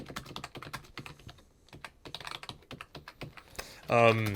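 Rapid clattery keystrokes on a light plastic keyboard, irregular and close, with a brief voice near the end.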